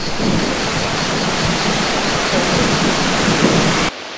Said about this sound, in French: Là il commence à pleuvoir, on commence à se faire prendre dans un orage.